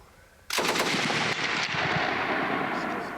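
Sustained fire from a DP-27 machine gun erupts after a brief quiet, a dense rapid burst of close, loud shots continuing for several seconds.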